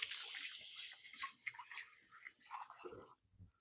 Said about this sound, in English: I'm going to give my hands a quick wash.